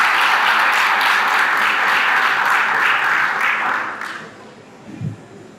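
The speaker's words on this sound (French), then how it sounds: "Impact Haïti, sous vos applaudissements, s'il vous plaît" Audience applause in a hall at a closing ceremony of a scientific event, a dense steady wash of clapping for about four seconds that fades out, followed by a faint low thump.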